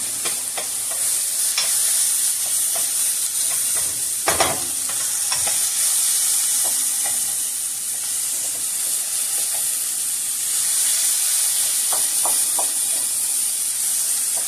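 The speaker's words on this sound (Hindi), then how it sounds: "तो थोड़ा सा हम अच्छी तरह से मिक्स करते हैं। इसमें बहुत ज़्यादा ऑयल नहीं डालना।" Spices stirred and fried in a little oil for chickpea soup, a loud, steady hissing sizzle with intermittent scrapes and taps of the spoon against the pan, no voices.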